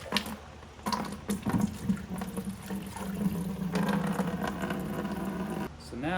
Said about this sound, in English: So now we are rinsing with hot water to get all of the rust dissolver out.